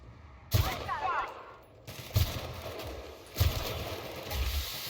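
Gunfire in The Outer Worlds: Spacer's Choice Edition, a few loud shots spaced a second or so apart over a busy mechanical game background.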